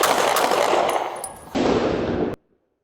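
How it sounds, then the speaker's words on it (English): Sustained automatic gunfire recorded on a police body camera during a nighttime shootout near a medical center, a loud continuous roar that dips briefly, surges again, then cuts off abruptly into near silence. "Newly released body cam video shows how a shootout unfolded last month near the medical center."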